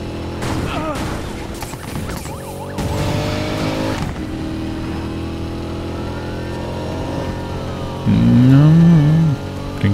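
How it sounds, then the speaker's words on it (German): A Corvette's engine in the Need for Speed Payback racing game drones steadily, rising and falling with gear changes and a few sharp tire squeals, loud and continuous. "Klingt cool, die Corvette."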